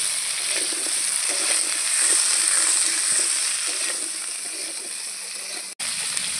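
Chopped cauliflower and carrot frying in a pan while being stirred, a steady close sizzle with scraping stir sounds throughout.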